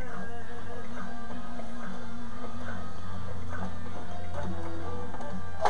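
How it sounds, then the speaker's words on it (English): A sewing machine back stitches across an ironing board cover, giving a steady, close mechanical ticking and whirring that runs evenly throughout. "I'm going to back stitch it a little bit"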